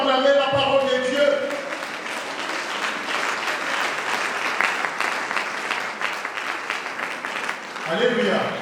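A church congregation applauds during a worship service, producing sustained clapping that swells, holds steady and then fades, with voices at the start and end.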